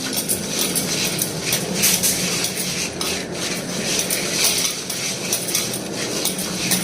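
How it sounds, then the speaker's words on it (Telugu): Coarse salt rubbed over fish inside a clay pot, a continuous gritty scraping and rattling, close and steady throughout with no voices. "ఈ కళ్ళుప్పు వేసేసి ఈ మట్టి దాకలో ఇలా రాసేయాలన్నమాట"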